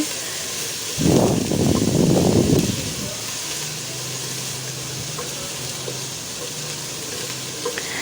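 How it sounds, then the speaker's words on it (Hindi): A brief burst of loud sizzling as garlic ginger paste hits hot oil, lasting about two seconds, then fading to a low, steady background hum. "इसको हम इतना फ्राई करेंगे कि इसका कच्चापन ख़त्म हो जाए"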